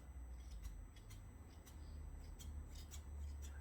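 Fabric scissors snip through hair in a run of quick, fairly close crisp cuts over a low steady background hum.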